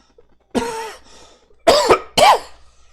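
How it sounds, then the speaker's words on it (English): A single cough followed by two sharp throat-clearing bursts from a nearby man who has been talking all day, close and loud with short silences between. "cough a little because I've been talking all day"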